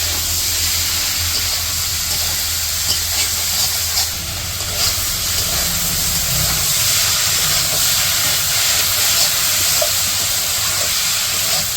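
Taro stolons cooking with fish and spices in a village kitchen pan hiss and sizzle loudly and steadily, a dense frying roar heard up close for the whole stretch.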